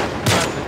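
A single gunshot in The Last of Us Part II, a sharp broadband burst lasting about a fifth of a second over steady game ambience, fairly close and loud.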